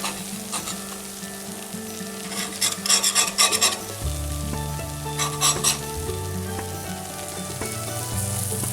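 Meat sizzles loudly in a pan in a test kitchen, with scraping and rasping bursts as it is flipped, the first around three seconds and another near five and a half seconds, over a constant frying hiss.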